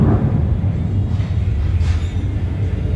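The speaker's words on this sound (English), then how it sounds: "You can hear the jets flying from Luke Air Force Base." A deep, steady rumble of military jets from Luke Air Force Base hangs in the background, like distant engine roar passing overhead, with a faint rising whoosh midway.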